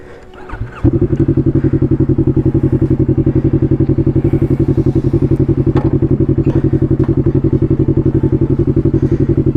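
A motorcycle engine thumps loudly and steadily on a road after a short quiet start, a close, rapid rhythmic chugging that holds for several seconds.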